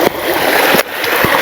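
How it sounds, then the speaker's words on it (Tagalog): Water flowing and splashing during a river crossing in a mountain area, a steady broadband rush with a few sharp splashes and footfall-like thumps, close and loud throughout. "At naririnig ko na po yung dumadaloy na tubig."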